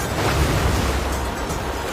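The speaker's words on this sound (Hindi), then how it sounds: "उस आंधी को देखो। क्या वो आंधी है?" Stormy wind roaring with crashing waves on an island shore, a loud, steady, broadband rush of surf and gusts that fills the whole stretch with no voices.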